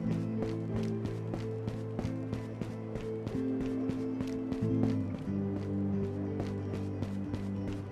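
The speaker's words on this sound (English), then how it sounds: "I did hear footsteps around me" Rapid footsteps of a character moving through a Tabor match map, steady close thuds at a running pace over a droning game music bed.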